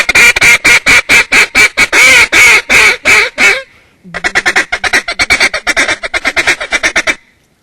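A loud, rapid series of nasal calls from a duck call, a long run of sharp quacking blasts, a brief pause, then another fast, slightly softer rhythmic sequence.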